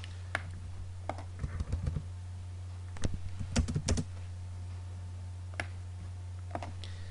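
Keys clack on a computer keyboard while drafting circles in AutoCAD: a few scattered taps, then a quick cluster of presses, with a low steady electrical hum underneath.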